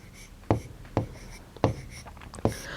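Chalk or marker taps and scrapes on a classroom board in a primary-school math lesson, five distinct sharp strokes spaced about half a second apart, close and clear.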